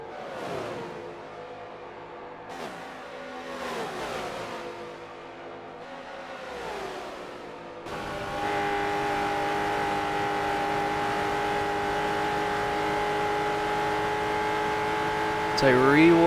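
Race cars in a NASCAR racing video game at Indianapolis roar down the back stretch, with sustained engine drones and rising revs. Several cars pass in overlapping waves, and a loud high-pitched engine surge comes at the end.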